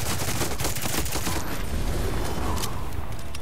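Gunfire in the shooter Far Cry 6: a dense, continuous volley of rapid shots, loud and close, filling the whole stretch without a break.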